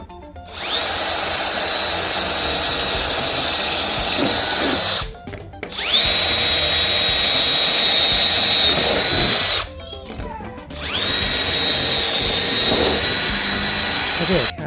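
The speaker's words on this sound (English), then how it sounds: "I'm going to attempt to drill them out and see if they come out that way." A power drill whines through three long bursts, separated by brief pauses, while drilling out rivet nuts holding the OEM club lip under a 2006-2015 Mazda MX-5 NC; the whirring is steady, close and loud.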